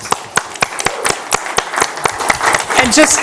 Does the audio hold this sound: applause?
yes